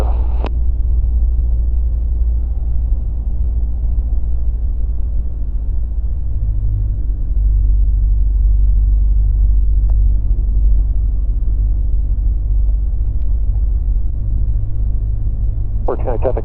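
A small aircraft's engine rumbles steadily as the plane moves at a county airport, a loud low drone filling the whole stretch, with brief clicks at the start and end.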